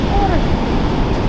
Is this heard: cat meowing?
no